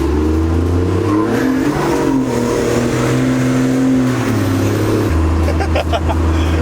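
A Cummins turbo diesel truck engine roars and revs steadily during a tire burnout, its deep drone shifting pitch, with a harsh, gritty layer of noise riding on top throughout.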